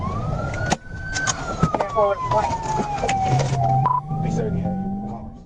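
A police siren wails and sweeps in pitch over steady traffic noise, with a low rising engine drone joining toward the end.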